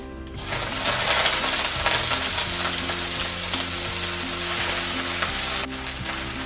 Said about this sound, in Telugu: ఇప్పుడు ఇదే ప్యాన్ లో కొత్తిమీర కూడా వేయించుకుందాం